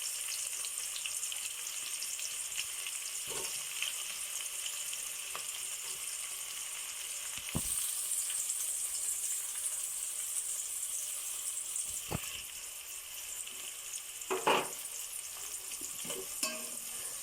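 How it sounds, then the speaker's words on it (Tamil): Onions frying in oil for mushroom biryani: a continuous soft sizzle throughout, with occasional scraping stirs and clinks standing out over the crackle. "வெங்காயம் நல்ல பொன்னிறமாக நமக்கு நல்லா வதங்கணும்"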